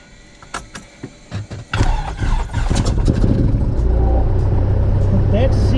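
A Cessna's engine cranks with a few clicks and sputters, then catches and settles into a steady, loud propeller drone that holds to the end.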